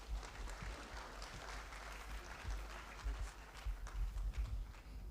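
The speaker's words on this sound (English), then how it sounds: "Another round of applause, please" Audience at a university convocation lecture applauding, a faint, distant, steady wash of clapping throughout with low rumble underneath.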